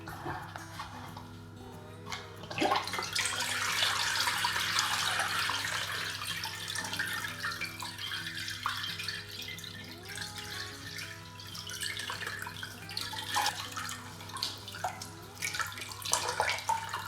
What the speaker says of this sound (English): Now I'm going to strain the elderflower cordial.